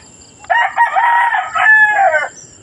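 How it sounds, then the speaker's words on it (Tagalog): A rooster crows once in a small backyard chicken coop, a close, loud, drawn-out cock-a-doodle-doo that rises and then trails off, with no other sounds around it. "Munting manukan natin mga kabakyard."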